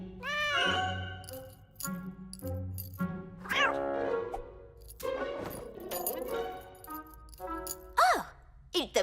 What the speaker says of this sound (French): C'est encore ce chat.